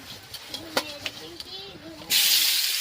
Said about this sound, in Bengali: এবারে আলুগুলো ভাজবো। এই দেখো, আলুগুলো দিচ্ছে